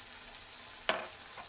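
Tomato and spices, with a little ground cumin, sizzle steadily in a hot pan with a soft frying hiss, and a brief stir scrapes through partway.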